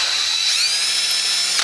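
A handheld power drill bores into a part for a Speeduino Ocelot build on a 2RZ engine, a loud high steady whine that rises slightly in pitch and cuts off abruptly at the end.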